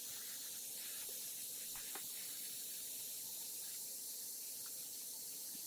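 An airbrush sprays Tamiya gold leaf paint onto the caliper of a 1:8 scale diecast Aston Martin DB5 model, giving a steady, soft, airy hiss that runs unbroken from start to finish at low volume.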